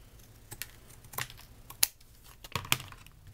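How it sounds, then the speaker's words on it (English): Sharp scissor snips trimming the edges off a homemade embossing plate, a few crisp separate cuts spaced through a quiet background with no talking. "Take my scissors. When I cut off the edges here,"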